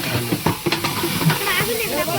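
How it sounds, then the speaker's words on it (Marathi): Whole spices tempering in hot oil with onion, a close crackling sizzle with stirring clinks and scrapes over about two seconds. "बघा आता सगळे मसाले बिसाले मस्त असे फोडणी बसली"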